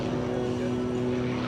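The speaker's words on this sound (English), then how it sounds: "This airplane, when it's going fast, will roll about 400 degrees a second." Aerobatic propeller airplane performing rolls at the EAA AirVenture airshow, its engine holding a steady, droning tone that carries on without a break. Talk blends in underneath it.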